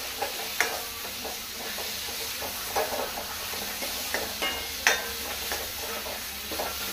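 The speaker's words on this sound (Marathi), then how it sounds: "केल्ले वांयगी ती घालून घेवया. ओके, बरें मिक्स करून घेवया." Mashed eggplant for baingan bharta is stirred in a hot pan, giving a soft continuous sizzle broken by occasional scraping clinks of the spoon against the pan.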